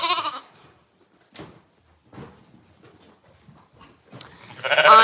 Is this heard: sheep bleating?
yes